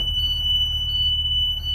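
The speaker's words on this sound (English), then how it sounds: "That buzzer's going to sound as soon as we open this." A bus rear emergency exit buzzer sounds steadily, high-pitched, continuously and loudly, with no pauses and no voices.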